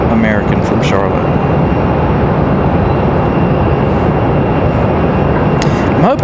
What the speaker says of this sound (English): There's Alaska Airlines right there. Coming in just behind American from Charlotte.